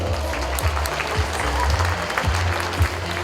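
A crowd at a youth football gala applauds its coach with sustained, dense clapping that fills a hall, steady and fairly loud throughout.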